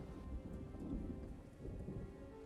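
Rumbling thunder and steady rain from a video game storm, a low continuous roll at moderate loudness with no voices.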